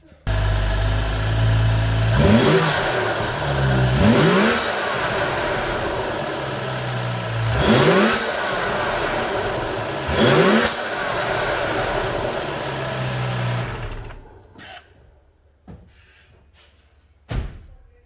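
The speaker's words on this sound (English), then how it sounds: "So we're gonna go ahead and start this car and see how it sounds." A BMW 335i with the N55 engine and an upgraded diverter valve starts with a loud crank, then idles and revs in four sharp, rising blips before shutting off, followed by a door slam.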